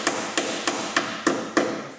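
Six sharp metallic hammer blows drive a screwdriver under a spot-welded panel on a Ford Falcon XF at an even, steady pace, close and loud with no talking.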